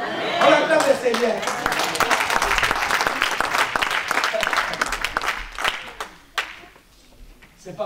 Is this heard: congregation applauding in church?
yes